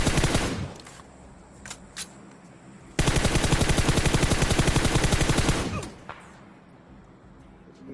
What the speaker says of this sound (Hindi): इधर शायद M24 चला रहा है जो सप्रेशन